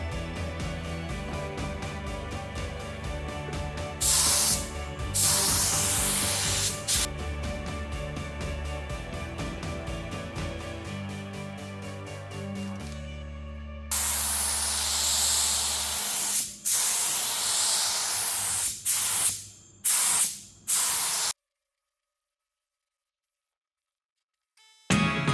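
Cleaner sprayed onto an SUV body as a first coat, a loud close hiss that runs for long stretches and then breaks into short bursts before stopping.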